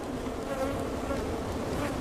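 Honeybees buzz steadily at an Australian hive, with drones among them, as a close, dense, continuous hum that never lets up.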